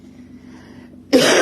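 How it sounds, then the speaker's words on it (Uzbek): A single sharp, loud cough bursts out near the end after a stretch of faint low background sound. "ozgina yo'talib oldim"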